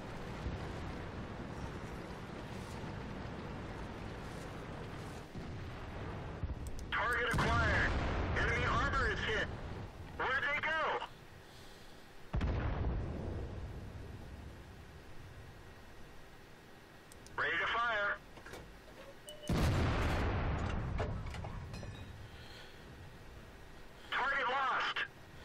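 An SU-100 tank destroyer fires its cannon in World of Tanks, with several loud booming shots spaced a few seconds apart over low engine rumble and game noise, while a voice talks between the blasts.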